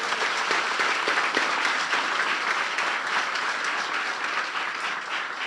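A church congregation claps together during a Good Friday service, a dense continuous wash of applause that holds steady throughout and tapers slightly at the end.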